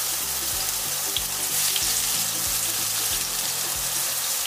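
Eggplant pieces frying in hot oil in a pan for a curd brinjal dish, a steady loud sizzle with crackling throughout that cuts off abruptly at the end, no talk.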